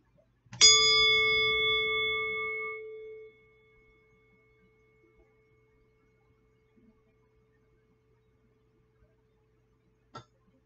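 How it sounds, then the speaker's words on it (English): A single struck meditation bell rings out clearly in a quiet room, its bright metallic tone sounding once and decaying smoothly over a couple of seconds into near silence. "I'm going to ring our bell again."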